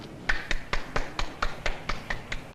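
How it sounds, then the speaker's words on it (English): One person claps alone in a slow, steady rhythm, about ten sharp, evenly spaced claps, close and distinct against a quiet room. "One poor dumb fool clapping his hands into a bloody nub"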